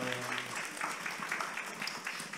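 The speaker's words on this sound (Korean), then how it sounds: "오늘 세 번의 공연을 무사히 잘 마친 남주 사정창에 큰 박수 한번 더 보내겠습니다" A church congregation claps during a Sunday morning service after a choir's performance, a fairly faint, dense patter of hands sustained through the short moment, with a held organ or keyboard tone briefly underneath at the start.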